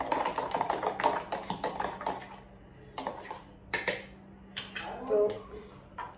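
Spoon clinking and scraping inside a cup while a shake is mixed, a series of quick bright taps and clatters with brief pauses between, close and fairly quiet, with a low steady hum underneath.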